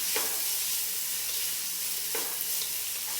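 Chicken for pasta fries in a pan with a constant loud sizzle, while a utensil scrapes and stirs it with a couple of soft knocks and no talking.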